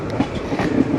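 A train at the Rajkot railway station junction gives a steady, close rumble with rolling wheel clatter that carries through the whole second, and no voices are heard.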